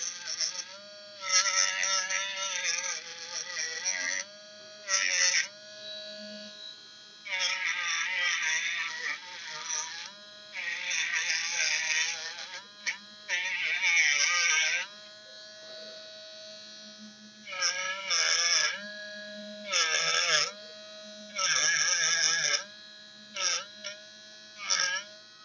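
A Harbor Freight spark plug cleaner running: a high, buzzy whine in repeated bursts of a few seconds each, separated by short pauses, fairly close and alone without talking.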